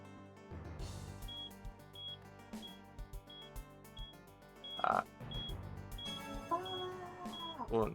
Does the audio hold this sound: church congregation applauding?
no